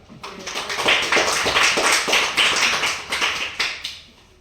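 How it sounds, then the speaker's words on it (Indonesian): An audience claps together at a school cultural gathering in Lanny Jaya, Papua: dense, steady hand claps, close and fairly loud, fading slightly toward the end. "Mari kita tepuk tangan."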